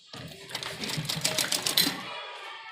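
A sewing machine runs a fast, steady stitching rattle through folded frock fabric for about two seconds, close and fairly loud, then stops.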